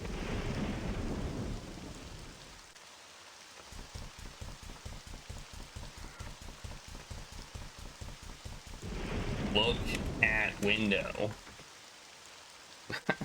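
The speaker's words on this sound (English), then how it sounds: "Light rain patterned against the glass. A gentle noise punctuated by rumbles of coarse thunder." Rain patters against a window in the Trilby's Notes video game, a steady wash of drops broken by deep, rolling thunder rumbles, with a brief spoken voice over it.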